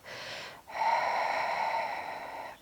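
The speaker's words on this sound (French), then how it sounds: "commence par ouvrir la bouche et expire" Two breaths pushed out through an open mouth during a prenatal yoga session, a short exhale followed after a brief pause by a longer, steady airy one, close and clear with no talk.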